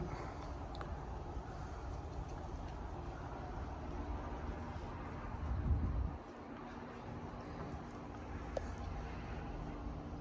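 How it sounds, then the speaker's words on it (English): A steady low rumble of rush-hour road traffic near a Glendale, Arizona apartment complex fills the background, with a slightly heavier passing vehicle swelling briefly before the drone settles again. "the road noise you hear is about what you're going to get during the rush hour traffic"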